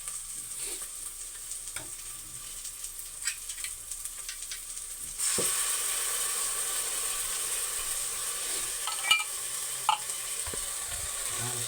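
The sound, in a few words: sardines stirred and frying with sautéed garlic and onion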